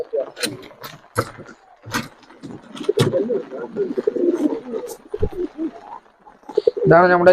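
Pigeons in a racing-pigeon loft give soft intermittent coos and wing flutters amid scattered mechanical clatter, with people talking over them throughout and a brief louder harmonic call near the end.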